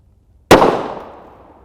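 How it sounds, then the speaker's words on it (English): A single sharp gunshot from a PMR 30 pistol firing a .22 Mag Speer Gold Dot 40-grain hollow point during a gel test, an abrupt loud crack followed by a decaying ringing tail. "We'll fire a round out of our PMR 30"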